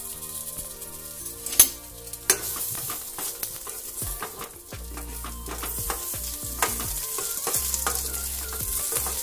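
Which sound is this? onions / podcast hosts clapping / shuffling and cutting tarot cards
onions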